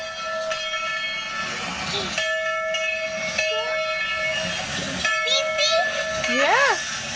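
Train rolling past close by with a whistle or horn sounding several times over the steady rumble of the cars, a child and adult chattering over it.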